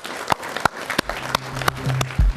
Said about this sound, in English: give yourself a round of applause and give your peers a round of applause for everything.